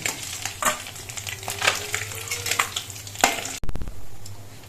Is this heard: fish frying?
yes